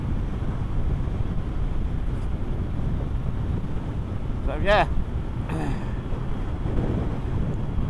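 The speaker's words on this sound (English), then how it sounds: "It's a bit windy." Steady, heavy wind roaring across the microphone, rumbling continuously, with a brief spoken remark heard through the gusts.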